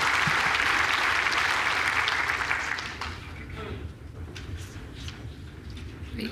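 Audience applause in a hall at an indoor bowls championship, a steady burst of clapping that fills the first three seconds and then thins out to scattered claps.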